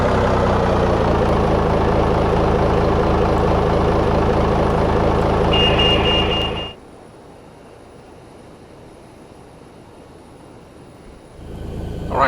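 Loud mechanical hum and whine of airport jetways moving at the gate in the X-Plane 11 flight simulator beside a Boeing 737, with a brief beep partway, running steadily for several seconds before cutting off to near quiet.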